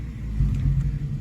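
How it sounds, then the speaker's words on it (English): A Ford Thunderbird engine idles with a rough, uneven misfire, producing a loud, steady low rumble with irregular pulsing and no talk. "You can hear it better now, listen. That's a huge misfire."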